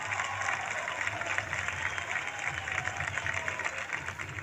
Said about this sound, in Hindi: जोरदार तालियां हो जाए संजू बाबा के लिए